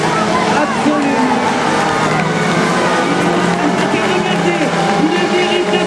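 An autocross race car with a Honda engine roars loudly and continuously at a dirt-track final, its engine note rising and falling under excited commentary.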